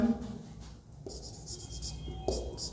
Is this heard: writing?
yes